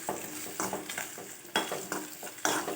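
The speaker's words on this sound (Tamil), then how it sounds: "நம்ம தேங்காய், மிளகு, ஜீரகம் எல்லாமே சேர்த்து நம்ம தாளிப்பு கொடுக்குறோம்" Coconut, black pepper and cumin sizzle in hot oil as a tempering for thavala adai, a steady crackle broken by a few louder stirring scrapes in the pan.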